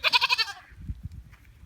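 A goat bleats once in a quick, wavering burst up close, followed by soft shuffling and low thumps as the animal moves about.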